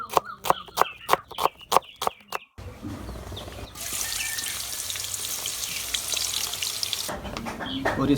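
Chopped onions go into hot cooking oil in a kadai and fry with a loud, steady sizzle. Before that comes a quick run of sharp knocks, and the frying hiss drops off slightly near the end.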